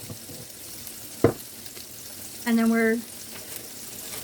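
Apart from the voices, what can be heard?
burger rolls toasting in a pan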